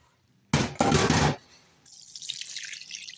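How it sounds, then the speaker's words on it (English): Ammonia is poured into an elderberry dye bath for natural dyeing, a loud close splashing gush for about a second, then a quieter hissing, bubbling fizz as the liquid settles. "And now we put it in the ammonia."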